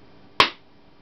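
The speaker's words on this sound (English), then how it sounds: "The first one I would like to register is my clap." A single sharp hand clap, close and fairly loud, sounding once in an otherwise quiet room and fading quickly.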